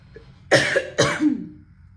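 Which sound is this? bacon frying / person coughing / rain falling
person coughing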